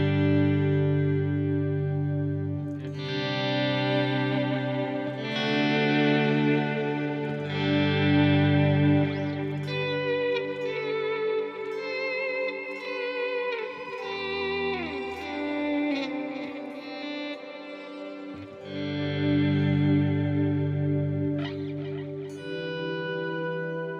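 An electric guitar played through a Headrush effects unit on a Vox-style chime tone, set to a very slow attack so sustained chords swell in gradually, layered with echo and reverb and ringing alone without talk.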